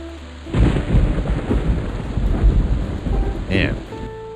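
A loud thunderclap bursts in suddenly and rolls on as a deep, rumbling roar over steady rain, staying heavy for several seconds before easing slightly.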